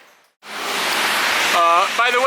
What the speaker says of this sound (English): We're in a train station.